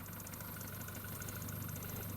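A Volkswagen Golf 1.4 petrol engine idles steadily with a low, even hum and faint mechanical ticking, close by and unchanging.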